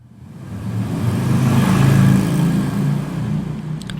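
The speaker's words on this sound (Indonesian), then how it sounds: "suara yang ini ya, mobil lewat ini ya" A car drives past, its engine swelling from a low rumble to a loud, close whoosh in the middle, then fading away with a broad whir.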